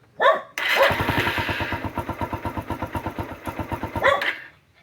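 A Suzuki Raider 150 motorcycle that is weak on acceleration and stalls: a short rev, then the engine sputters in an uneven, chugging rhythm up close before a final burst and fading out.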